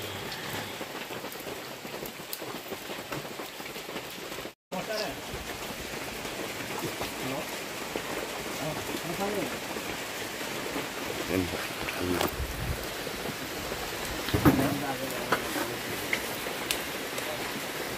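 Heavy rain pours steadily near Gonasika in Keonjhar, a dense, loud hiss of drops drumming on surfaces and on an umbrella throughout, with a brief dropout and people talking beneath it.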